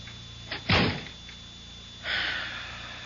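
A door is shut in a radio drama scene, a single solid thud up close followed by a softer rustle or latch sound a moment later, with no talk.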